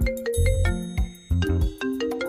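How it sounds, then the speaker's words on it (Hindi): A mobile phone rings with an incoming call, playing a close, loud melodic ringtone of bright stepped notes that repeat in short phrases. "ओह शिट, निकिता का फोन आ गया यार"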